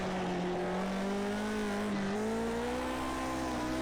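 Vintage car powering through a corner under heavy throttle, its engine droning loudly and rising in pitch as it slides, heard alone without talk.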